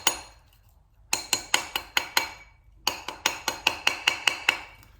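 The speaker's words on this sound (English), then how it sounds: "we'll turn the ring upside down and we'll tap it again the other way" A 9k gold ring is struck on a tapered steel mandrel with a hammer in two rapid bursts of sharp, ringing metallic taps, about five then nine, close and loud with a short pause between.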